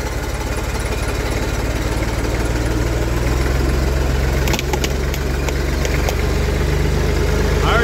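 An old farm tractor engine chugs steadily as it climbs a small slope, a loud, even low rumble throughout with a brief clatter partway through.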